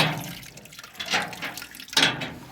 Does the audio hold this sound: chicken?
no